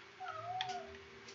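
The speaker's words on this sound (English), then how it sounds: "that's my cat going crazy." An indoor house cat lets out a drawn-out, wavering meow close by, one fairly faint rising and falling cry over a quiet background.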